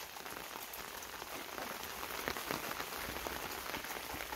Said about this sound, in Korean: 지금 많은 비가 오고 있습니다.